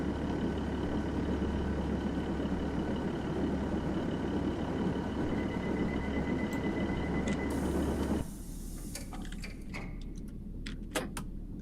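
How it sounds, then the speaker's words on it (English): A steam engine in the video game Train Simulator 2021 rumbles with a low, steady mechanical drone and faint whine, then drops quieter with scattered clicks and ticks near the end. "I can hear a steam engine."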